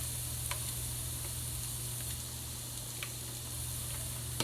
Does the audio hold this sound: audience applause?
no